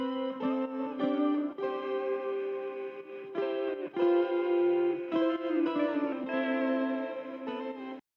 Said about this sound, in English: there's actually a guitar in this song as well that I recorded on my Telecaster.